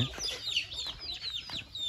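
Native country hens cluck and squawk in quick, overlapping calls close by, a busy cluster of free-ranging hens with no pause.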